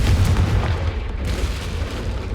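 The Confringo fire spell explodes in the video game Hogwarts Legacy, a loud deep booming blast with a rumbling, crackling tail that fills the whole moment.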